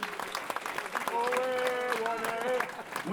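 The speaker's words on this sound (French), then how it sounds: "Applaudissez-les" An audience applauds at a Jackpass show in Badaroux, with a steady tonal whistle-like sound carried over the clapping for a couple of seconds, and voices mixed in.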